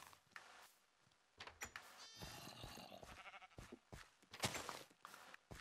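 Sheep bleating close by, several wavering bleats overlapping, with rustling, thumping movement in between.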